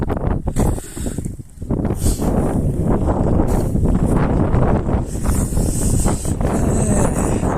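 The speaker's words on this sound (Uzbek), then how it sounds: "Mana shamol." Strong, cold wind gusts buffet the microphone in a village in Rubtsovsk District, Russia, in a steady roar, rising and falling, with no one speaking.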